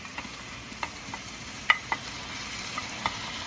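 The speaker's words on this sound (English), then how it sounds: "You add a little oil, you put your garlic in, stir it a little bit, and add your lettuce in." Garlic and lettuce stir-fried in a little oil in a pan, giving a soft, steady sizzle with a few light clicks from stirring and no voices.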